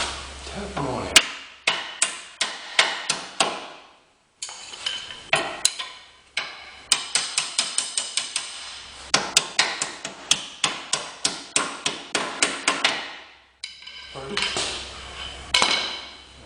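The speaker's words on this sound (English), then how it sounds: "Got a little hammer. Tap on it." Bursts of light, sharp metallic taps from a small hammer on a 1980 Corvette's radiator core support area, struck in quick runs with short pauses between groups, close and clear.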